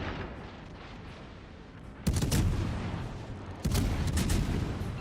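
Heavy naval gunfire from warships in World of Warships Legends, two deep booming salvos that hit hard and then roll out over a constant rumble of battle noise.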